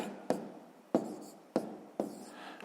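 Pen strokes writing numbers by hand on paper for a column multiplication exercise: four sharp scratchy taps spaced about half a second apart, close and fairly quiet, with no voice.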